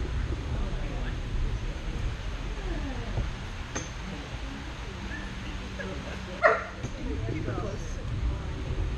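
A dog barks and yips during a basic obedience class, short bursts mixed with whimpers, heard under ongoing talk from trainers nearby.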